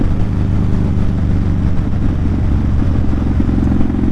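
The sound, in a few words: motorcycle engine running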